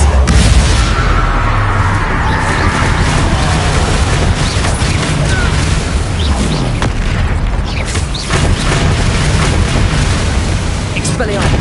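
Rapid magic blasts from the Confringo explosive spell in Hogwarts Legacy, a continuous roar of loud booming impacts and rumbling bursts overlapping in dense succession, with a voice calling out spells over the din.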